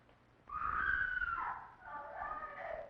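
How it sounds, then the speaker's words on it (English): A woman screams in a 1931 film scene, a long, high, wavering cry that rises and then breaks into a second quavering wail, heard fairly faintly with no one talking over it. "Why is she screaming like that?"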